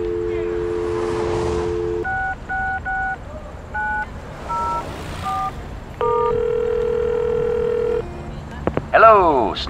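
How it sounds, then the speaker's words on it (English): Telephone in the Leisure Suit Larry Reloaded video game: a steady dial tone, then a quick series of touch-tone dialing beeps, a longer tone and a short ringing burst at the end, loud and clear. "You pick up the phone and, to your delight, you get a dial tone."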